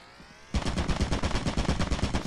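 A turret in the video game Lethal Company opens up with sudden rapid automatic gunfire after a brief quiet moment, a dense, loud, close burst of shots that continues to the end.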